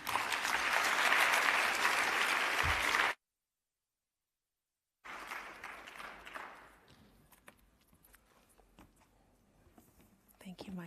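Audience applause at the closing plenary of a conference in Johannesburg: dense, sustained clapping from a large crowd for about three seconds, a gap, then lighter scattered clapping fading out with murmurs and a voice at the end.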